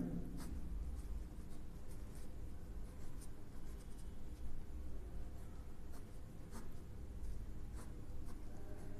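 A marker draws a cuboid shape on a board during a surface areas and volumes lesson, faint scratchy strokes in short, irregular bursts over low background hum.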